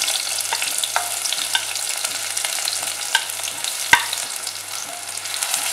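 Onions frying in oil with fennel seeds, bay leaf and curry leaves make a dense, steady sizzle, close and fairly loud, with stirring scrapes and one sharp clack near the end.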